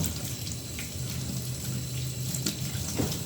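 Tap water runs steadily into a sink while cauliflower is washed under it, a continuous close splashing stream with no talking.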